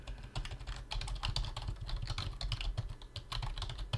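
Rapid, continuous keystrokes on a computer keyboard, a dense patter of soft clicks with brief pauses, quiet and close-miked over low background hum.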